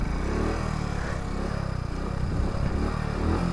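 A Hero Splendor 100cc motorcycle struggles on a steep mountain climb toward Ladakh, its engine labouring in a steady, loud, rough drone that never picks up, heard close and alone.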